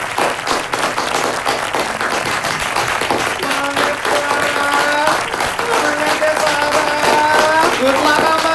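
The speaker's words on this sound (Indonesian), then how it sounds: "Mari kita sambut dengan tepuk tangan penuh sukacita, Amar Adli dan Clara Merona." Loud, continuous applause and clapping from a crowd welcoming the couple at a lavish wedding reception, with voices and music underneath.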